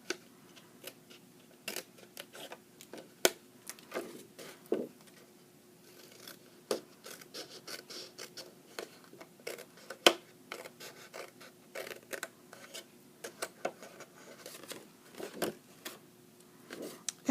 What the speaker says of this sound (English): I'm going to take my paper snips, and on this score line with the 1/2 inch mark, I'm going to cut the flap off